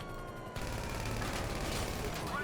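Dense, continuous gunfire from a helicopter in GTA 5 erupts after a brief lead-in, a rapid rattling barrage that stays loud and unbroken to the end.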